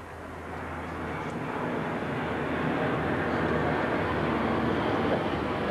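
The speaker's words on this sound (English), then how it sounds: "Even the Battle of Britain Memorial flight recognised the achievements of Richard Hadlee" Battle of Britain Memorial Flight aircraft passing over a 1990 cricket match, a broad, steady engine roar that swells over the first seconds and then holds loud and close with no talk.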